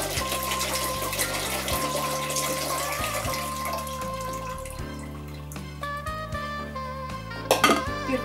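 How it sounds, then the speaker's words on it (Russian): Brine from jars of pickled watermelon and apples pours out through a special lid, giving a continuous glugging trickle with faint clinks, alone and at moderate loudness. "мы берем крышку специальную и выливаем рассол для повторного кипячения"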